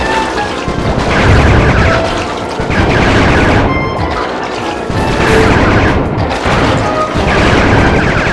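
Gunfire and booming blasts in the Sly 3: Honor Among Thieves video game, a loud, dense, continuous barrage of shots and crashes that rises and falls over about eight seconds with no talking.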